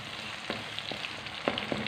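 Onion, tomatoes and ginger sizzle steadily in a pan for an aloo palak sabzi, with a few sharp stirring clatters of a spoon against the vessel rising over the constant frying hiss.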